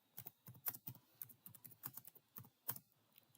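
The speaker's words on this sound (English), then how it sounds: "Hold on, I'm typing it out" Rapid, fairly even typing on a computer keyboard, with distinct key presses following one another in close succession and a few heavier strokes mixed in, heard up close and with no talking.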